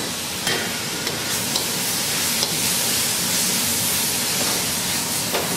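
Secret sauce sizzling and steaming in a wok over full heat on a Capital Culinarian range, a loud dense continuous hiss with a few sharp spits and scrapes, no voices.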